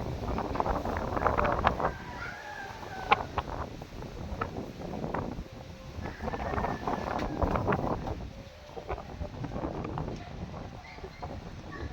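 Gusty typhoon wind roars and buffets steadily throughout, with rustling and flapping noises mixed in and occasional distant voices.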